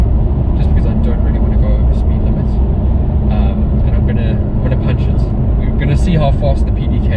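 A 2019 Porsche 911 with a PDK gearbox accelerates hard from inside the cabin, a loud, steady engine roar building throughout under a driver's talk.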